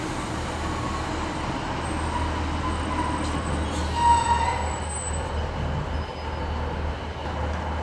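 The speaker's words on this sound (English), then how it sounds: "156, 488 is now departing with the 1739 Northern service to Liverpool Lime Street." A Class 156 Northern train departs Liverpool South Parkway station on the West Coast Main Line Liverpool branch, bound for Liverpool Lime Street. A steady, fairly distant rail rumble holds throughout, with a brief swell midway and faint high squeals.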